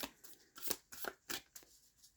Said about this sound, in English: You literally just need to hear the shuffling sound